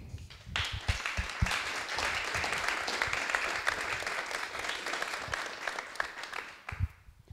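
An audience gives a steady round of applause to a four-member round-table panel on managing web3 communities, dense clapping that swells quickly and holds before trailing off, heard at moderate distance with no talk.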